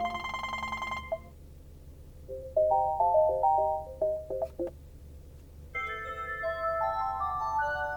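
Phone ringtones played through the Ford Sync 3 system in a 2016 Ford Focus ST, several bright electronic melodies of short tonal notes in sequence, each starting and stopping, with quiet cabin hum between them.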